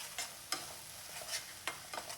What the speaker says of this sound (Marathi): आता हा मस्त फ्राय करून घ्यायचा